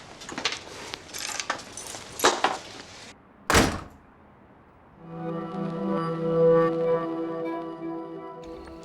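Several quick clicks and knocks come first, then a single sharp thunk as a door opens, followed by a sustained resonant rumble and creak that fades gradually.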